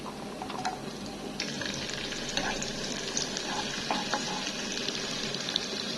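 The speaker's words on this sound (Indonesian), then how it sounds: "Aku goreng sebentar aja. Kayak gini diaduk-aduk." Rendang spice paste with a little shallot fries in a pan while being stirred, giving a steady, dense sizzle with faint scraping clicks throughout and no talk.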